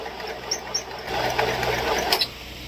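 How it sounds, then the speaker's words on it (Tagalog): A portable sewing machine runs with an odd, irregular noise, a steady mechanical whir broken by a few sharp clicks and knocks, close up with no talking. "lately napansin ko na may kakaibang tunog tong aking sewing machine"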